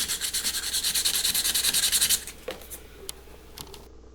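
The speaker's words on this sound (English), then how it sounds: "then went at the body line with some sandpaper" Sandpaper rubs rapidly back and forth over a Hot Wheels model car body, a close rhythmic scratchy rasp for about two seconds, then a few scattered light scrapes and taps.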